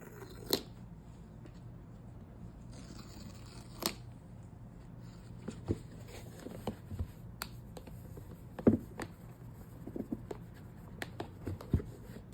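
A new Apple iPad Air M4 is unboxed in a quiet room, with sparse soft clicks, crinkles and sharp snaps of packaging being handled, separated by near silence.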